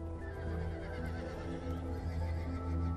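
A Konik horse neighs in an open wetland reserve standing in for the extinct tarpan, a fairly faint whinny over soft background noise with possible hoof clops.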